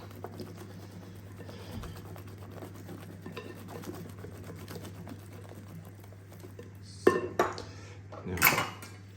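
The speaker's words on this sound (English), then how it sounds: "So just make sure to whisk it through so that it doesn't split." Orange zest is whisked into cake batter for an orange and pomegranate cake. A low hum sits under faint tapping, then a few sharp metallic clatters of a whisk against a bowl come near the end.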